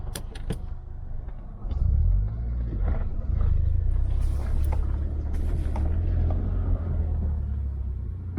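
A 1.8T engine treated with Sea Foam idles very low, a deep steady rumble with a slight uneven throb, preceded by a few clicks and a brief starter-like surge, close up with no speech.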